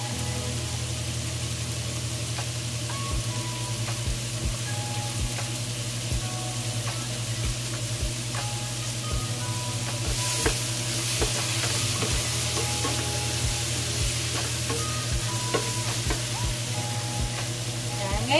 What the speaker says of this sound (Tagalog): Ihalo natin yung juice sa pineapple chunk natin.